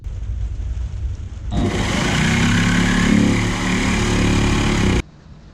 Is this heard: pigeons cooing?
no